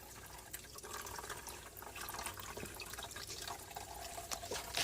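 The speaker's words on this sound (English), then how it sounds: "So I'll sit here and let it spill into my pan." Water spilling from a flower pot into a drain pan, a faint continuous trickle with scattered drips, steady and alone throughout.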